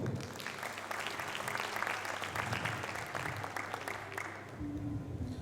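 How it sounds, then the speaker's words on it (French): An audience at a Miss Earth Mauritius Reunion pageant applauds in a dense, continuous crackle of clapping, moderately distant and soft, with a faint musical tone emerging beneath near the end. "Sous vos applaudissements."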